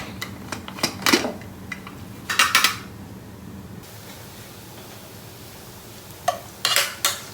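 Cooked pork stirred into gravy in a pan for a Kerala pork roast, with bursts of spoon scraping and clattering against the metal between quiet gaps over a soft background hum.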